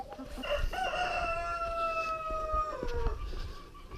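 A rooster crows loud and close, a drawn-out cock-a-doodle-doo of several sustained notes lasting most of the clip, with faint clucking and farmyard noise underneath.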